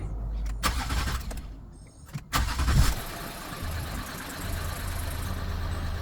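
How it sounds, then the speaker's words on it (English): A Ford Territory SZ 2.7 diesel cranks and fires up after a timing belt replacement, then settles into a steady, close idle. "I just hooked on the battery, so let's just start it and see"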